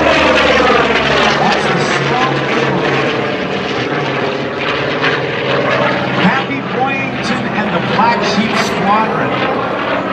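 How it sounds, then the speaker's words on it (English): A Corsair propeller warplane performs aerobatics at the 2014 NAS Jacksonville air show. Its piston engine drones loud and steady throughout, with the pitch shifting as it passes, and voices are heard underneath. "And again, from the right, here comes the Corsair."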